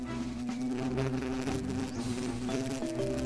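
A bee buzzes steadily in a video game, a close, continuous droning hum that shifts slightly in pitch near the end, with no speech over it.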